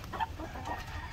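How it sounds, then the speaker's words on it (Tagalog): Hens cluck in short, soft bursts close by, with a faint farmyard murmur in the background, on a farm where the hens lay eggs. "So, yan yung mga manok natin."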